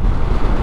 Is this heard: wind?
yes